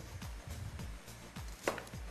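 A knife chops onions on a board in quick, steady strokes, several cuts in a row, close and fairly faint, with no talking.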